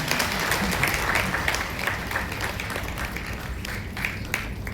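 Sustained audience applause at an award ceremony, a dense steady wash of many hands clapping that continues evenly throughout without pause.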